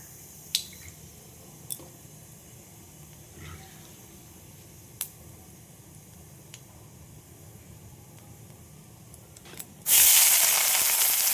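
Chopped onions drop into hot mustard oil seasoned with black cumin, setting off a sudden, loud, steady sizzle after a quiet stretch of faint ticks and clicks.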